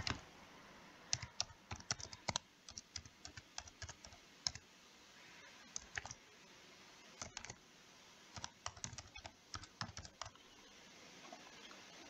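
An email address being typed on a computer keyboard, with quick irregular clusters of crisp, close key clicks and short gaps between bursts, quiet and with no voices.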